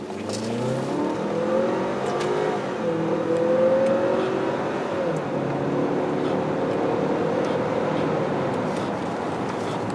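A 2017 Ford Escape accelerating hard from a start, the engine rising in pitch through first gear before a paddle-shifted upshift drops the revs, then climbing again, loud and steady from inside the cabin.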